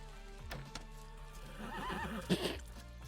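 A horse whinnies in a mining and farming video game, a rising, wavering neigh that peaks near the end over a steady background of game sound and music.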